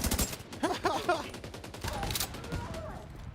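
An M60 machine gun fires in a video game, rattling off several quick bursts of rapid, punchy shots at close range, with brief pauses between volleys.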